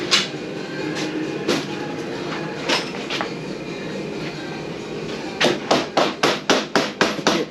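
Metal hammer blows on the front wheel spindle of a Harley-Davidson 48 motorcycle, scattered single strikes at first, then a fast run of about eight regular, close, loud hits at the end.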